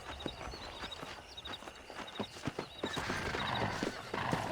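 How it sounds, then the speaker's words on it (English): Rapid hoofbeats of several wild horses clatter along in a driving rhythm in the video game Red Dead Redemption, with whinnies and snorts rising as the herd grows louder and closer. "That ranch hand said there's a pack of wild horses nearby."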